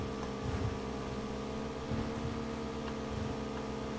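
Motorcycle engine in PUBG, a steady low drone that holds at a constant level throughout, moderately loud with faint surges, without any voices.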